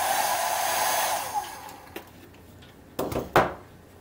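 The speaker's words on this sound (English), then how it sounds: "I'm going to help it along here with the hairdryer." A hair dryer blows steadily for a second and a half on a model ship hull, then shuts off, followed by a few sharp knocks and clicks from handling.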